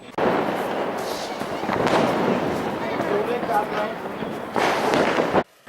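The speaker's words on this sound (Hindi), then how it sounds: "पूरे शहर में पटाखों की गूंज सुनाई दे रही थी।" Dense crackling bursts of firecrackers popping continuously at a distance across a city during a Lord Ram celebration, a thick rattling barrage that swells and fades.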